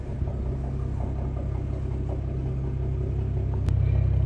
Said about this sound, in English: you know how cars sound terrible whenever there's an exhaust leak?